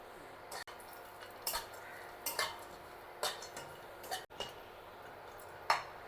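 Almonds fry in ghee in a pan and are stirred. Soft, sparse clinks and scrapes of a utensil against the pan come at irregular intervals over a quiet, steady background.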